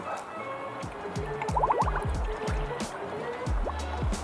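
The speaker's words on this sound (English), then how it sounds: "Fill the radiator and the coolant reservoir with coolant." Coolant pours and gurgles into the radiator of a Jeep Grand Cherokee during a water pump replacement, with close, wet trickling, dripping and bubbling and no talk.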